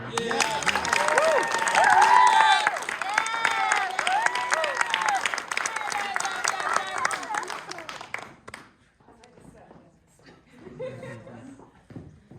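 An audience at an improv festival's opening ceremony breaks into loud applause with cheers and chuckles for about eight seconds, then fades to scattered clapping while a speaker begins talking.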